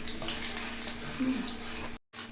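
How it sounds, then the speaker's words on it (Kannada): Chana dal and urad dal fry in hot oil, giving a steady, close sizzle and crackle with a faint stirring scrape, cut off briefly near the end. "ಒಂದೆರಡು ಸ್ಪೂನು ಕಡಲೆಬೇಳೆ ಒಂದು ಸ್ಪೂನು ಉದ್ದಿನ ಬೇಳೆ ಹಾಕಿಬಿಟ್ಟು ಸ್ವಲ್ಪ ಫ್ರೈ ಮಾಡೋಣ"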